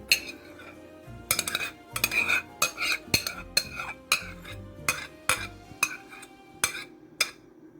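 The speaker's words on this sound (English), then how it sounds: "Now mix the egg white, which we have beat, into the egg yolk" A spoon or whisk folds beaten egg whites into egg yolk in a large bowl for a sponge cake batter, a series of distinct clinks and scrapes against the bowl, regular and close.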